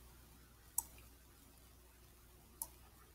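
Two crisp computer mouse clicks, spaced about two seconds apart, close and quiet over faint room hiss, with no talking.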